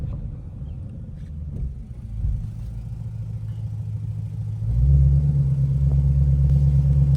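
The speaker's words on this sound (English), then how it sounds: "We gonna try to do a pull right here" A Shelby GT500 heard from inside, first as a deep steady rumble, then the engine swells sharply louder and more forceful as it pulls hard under acceleration.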